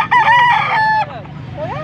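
A six-month-old white choco gamefowl stag crows once, loud and close, a short rising call that breaks off and trails into softer clucking.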